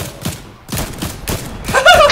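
Gunfire in a shooter video game: four evenly spaced bursts of sharp, fairly loud shots, each separated by a short gap, with a brief electronic tone over the last one.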